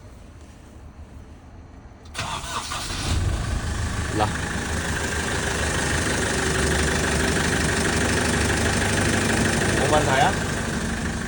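The Cummins ISF2.8 diesel in a 2021 Foton truck with about 90,000 km cranks and fires after a quiet couple of seconds, then settles into a steady, even idle while someone speaks briefly over it.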